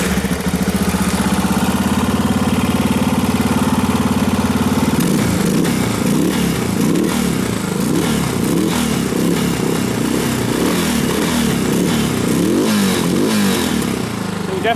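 A motorcycle engine runs with the choke on, loud and close, a steady drone that shifts at about five seconds into a rougher, louder, uneven running note.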